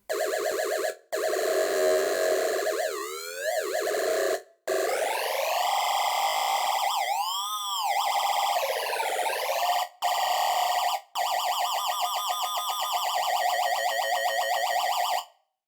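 A Serum synthesizer patch, buzzy and bright with sweeping pitch bends and modulated wobbles, playing loud, sustained phrases separated by brief gaps, alone with no voices.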